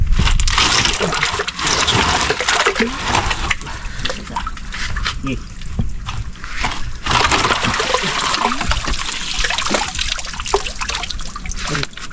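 Steady flowing current of water in a fishpond at harvest time, a dense trickling and splashing wash that stays fairly loud and close throughout, with a few brief louder surges.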